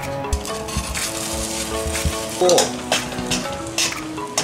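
Takoyaki batter with chunks of a giant octopus sizzles steadily in a hot pan, with picks scraping and turning the balls and a few light metallic clinks, close and continuous with no talk.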